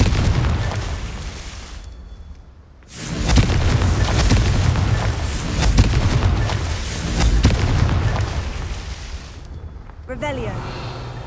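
Booming spell blasts of the Confringo curse in Hogwarts Legacy, loud and close, with a dense explosive rumble sustained across most of the stretch and brief gaps between bursts, and a voice shouting the incantation.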